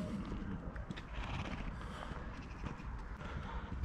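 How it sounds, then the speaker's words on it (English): Donkeys walk at an animal rescue, giving soft, irregular hoof clops and shuffles on the ground nearby over a low outdoor rumble, with no talk. "We've got a few donkeys following us."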